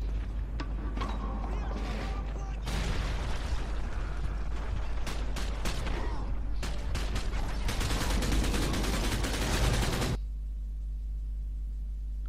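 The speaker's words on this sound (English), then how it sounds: "The gunfire has to be the giveaway." Video game gunfire: stretches of sharp, rapid crackling shots and dense automatic bursts, with louder clusters in the middle, run over a low background rumble before cutting off abruptly near the end.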